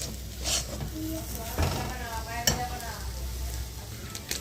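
Chicken chop stuffing being stirred and fried in a pan, giving a steady close sizzle with scraping stirs and a few light clinks of the utensil against the pan.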